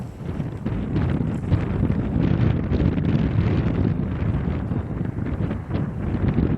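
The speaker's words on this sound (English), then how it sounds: "as you can hear, the wind was just ripping" Strong wind blowing across an outdoor disc golf course, a steady loud roaring buffet of gusts hitting the microphone without letup.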